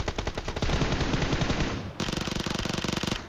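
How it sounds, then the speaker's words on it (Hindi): Video game gunfire: rapid bursts of automatic fire rattle continuously, loud and close, in two sustained volleys with a brief break between them. "मेरे को सामने की तरफ से गन फायर आ भी रही थी"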